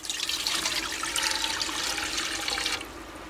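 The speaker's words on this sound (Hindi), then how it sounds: "अभी हम एक कढ़ाई रखेंगे चूल्हे के ऊपर और इसमें डालेंगे तकरीबन 1/2 लीटर पानी" Roughly half a litre of water pours into a kadhai on a stove, a loud, continuous splashing rush that lasts a few seconds and then stops abruptly, leaving a faint trickle.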